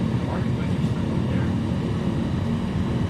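A Cessna in Microsoft Flight Simulator gives a steady, droning aircraft engine hum with a low rumbling tone, continuous and fairly loud, with a voice talking over it.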